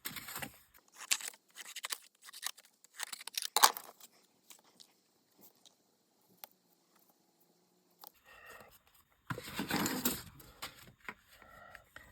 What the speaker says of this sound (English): I think I will just cut this down a little first.